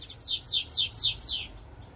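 A European goldfinch mule gives a quick run of five bright, sweeping chirps in a steady rhythm, close and clear, then falls silent, with no voices.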